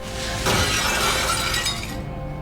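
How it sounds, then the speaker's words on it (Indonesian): Glass shatters upstairs in a house, a loud crash with a bright spray of breaking shards that trails off over a couple of seconds, with no talking. "Ibu Hanul mendengarkan suara kaca pecah dari atas"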